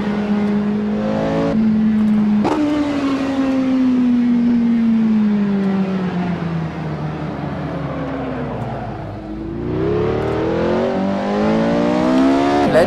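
A Porsche 918 in a racing game revs and accelerates, its loud close engine climbing in pitch through the gears with shift breaks, dropping off, then building again.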